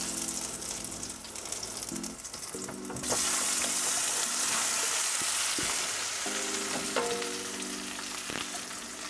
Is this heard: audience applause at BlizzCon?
no